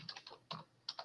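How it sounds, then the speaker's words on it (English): Close keyboard typing in an online lecture session, a short run of quick, soft key taps in three small clusters, with no voices. "Someone is typing."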